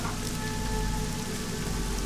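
Steady rain from the Nancy Drew: Legend of the Crystal Skull game, a dense, even downpour hissing on surfaces with no pauses and no voices.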